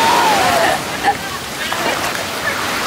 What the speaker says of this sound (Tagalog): Lumaki na yung alon kasi may dumaan na barko.